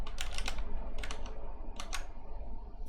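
Rapid typing on a computer keyboard, close and clear, in three quick bursts of key clicks separated by short pauses, with no talking.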